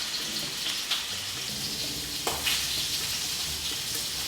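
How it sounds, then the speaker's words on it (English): A rack of lamb searing in a hot pan, giving a dense, even sizzle that holds steady throughout with a couple of brief louder crackles. "it is always a good idea to sear your lamb before you put it in the oven"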